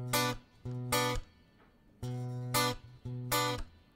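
Fingerpicked acoustic guitar alternates a thumb bass note with a two-finger pluck in a repeating pattern of bright, ringing chord bursts with short gaps between, played alone and moderately quiet.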